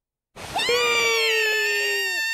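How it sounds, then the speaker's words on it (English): A shrill, sustained scream from Kotori, a character in the visual novel If My Heart Had Wings, holds a high piercing pitch for nearly two seconds, loud, close and alone. "Kotori's scream pierced from my right ear and out of my left."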